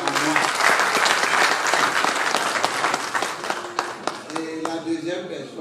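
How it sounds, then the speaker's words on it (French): An audience at a Batchingou community gathering in Paris applauds for their king, sustained crowd clapping, loud and dense, with scattered voices and cheers mixed in. "je voulais que vous applaudissiez pour notre roi qui a cru en moi"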